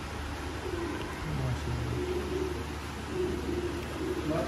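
Pigeons kept by a fancier in Sialkot coo softly in low, repeated phrases over a constant background hum, with a few faint bird calls mixed in.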